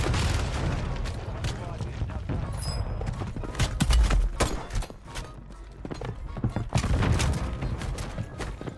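Rapid gunfire and heavy explosions from the Warzone video game pound continuously in dense, overlapping bursts with deep booms, loud and close throughout.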